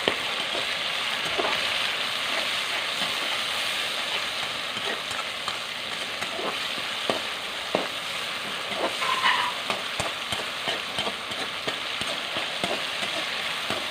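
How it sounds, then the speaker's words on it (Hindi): Tomatoes fry in a pan with a steady close sizzle, while a spoon stirs through them with scattered scraping taps against the pan. "अच्छा, टमाटर भी भुन गए हैं।"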